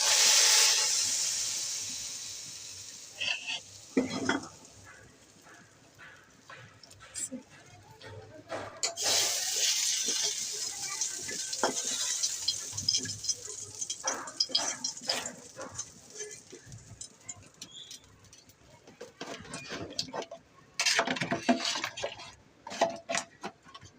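Liquid poured into a hot pan of beef nihari sets off a broad, hissing sizzle that rises and falls in bursts, with clatter and scraping mixed in over roughly twenty seconds.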